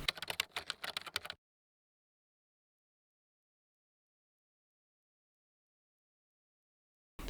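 Quick keystrokes on a computer keyboard as a puzzle solution is typed, a brief close clatter of about a second, then silence.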